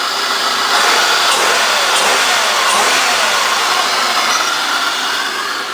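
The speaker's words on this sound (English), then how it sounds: "You can probably hear the supercharger" A supercharged 1998 Oldsmobile LSS engine held at a steady, loud rev, with a continuous whine and rush that swells slightly and holds, recorded close with no one talking.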